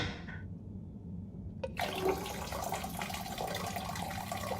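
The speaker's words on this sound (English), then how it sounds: "Sounds like the shower is playing up" Running water from a shower in the game Harold Halibut, starting after a short quiet gap with a sudden rush of steady hissing spray that continues at moderate level.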